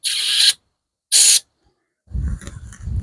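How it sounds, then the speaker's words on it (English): Two short, sharp hissing bursts of an aerosol spray into the rear window washer jets of a Rover 25 GTI, separated by a brief pause, followed by low rumbling handling noise. "Give it a spray."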